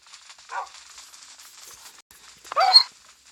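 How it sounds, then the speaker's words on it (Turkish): Two snarling, growl-like zombie dog noises from Minecraft, a short one then a louder one, over faint background sound. "Zombi köpek!"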